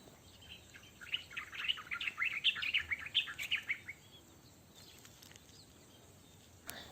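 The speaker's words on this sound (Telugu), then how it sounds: "enjoy the beautiful sound of birds" Several birds chirp and twitter in quick bright bursts around a quiet village spot at midday, fairly faint and distant against a hushed outdoor background, fading toward the end.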